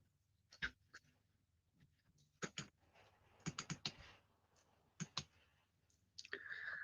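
Sharp computer mouse clicks, faint and close, come in quick pairs and short bursts over a quiet background, with a brief muffled sound at the end.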